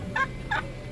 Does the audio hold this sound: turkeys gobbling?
yes